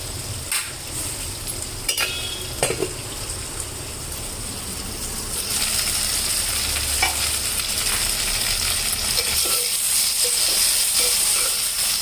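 Cluster bean pieces frying in a pan make a steady sizzle with a few sharp utensil clicks early on, and the frying grows louder and hissier partway through.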